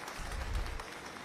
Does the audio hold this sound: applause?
yes